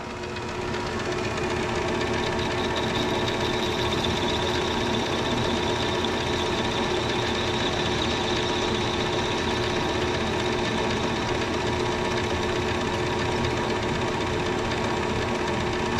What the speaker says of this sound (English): So I take a small cut, tighten my carriage down, engage my clutch, take the cut.